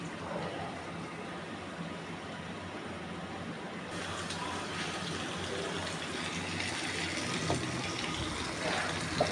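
Tap water runs steadily and gushes for hands being rinsed in a home kitchen while gourd greens and pomfret fish cook, a continuous close splashing flow that grows a little louder toward the end.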